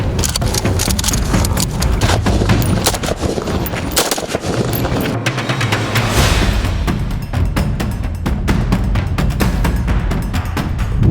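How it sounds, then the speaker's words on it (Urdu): Rapid gunfire from Sindh Rangers shooting at targets on a firing range, loud dense bursts of shots and volleys rattling almost continuously with brief lulls, close and sharp. "جبکہ فائرنگ رینج میں ٹارگٹ کو نشانہ بنایا۔"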